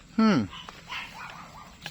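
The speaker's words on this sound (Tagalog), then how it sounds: "Natahol yung ating mga aso." A single dog barks close by, one loud bark followed by fainter rustling and quieter sounds in the background.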